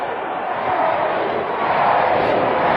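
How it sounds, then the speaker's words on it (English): Wrestling arena crowd at a 1999 WCW Worldwide show chanting for Eddie Guerrero, a dense, steady roar of many voices that swells slightly toward the end, with no clear separate speech. "You hear the crowd chant for Eddie Guerrero."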